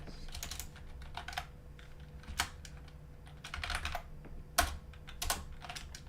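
Typing on a computer keyboard while writing Atari 2600 code, with irregular bursts of close key clicks and pauses between, fairly quiet over a low steady room hum.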